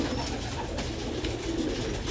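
Breeder pigeons coo softly and continuously close by on a rooftop loft, low throaty murmuring over a dense steady background hum, with no talking.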